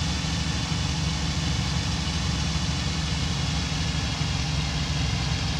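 A steady, droning propeller engine in the flight simulator game Cliffs of Dover hums continuously at constant pitch after a prop pitch change, fairly loud with no breaks or voices.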